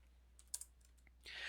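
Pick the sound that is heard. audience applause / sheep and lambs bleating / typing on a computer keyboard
typing on a computer keyboard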